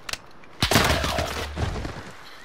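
Sniper rifle fire in a video game: a sharp, loud shot followed by a long rumbling tail, with a fainter earlier pop just before it.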